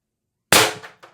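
A single close, sharp shot from a Beeman BP50 carbine air rifle with a 16-inch barrel running on 800 psi high-pressure air, a crisp crack that decays quickly, followed by a faint trailing tick.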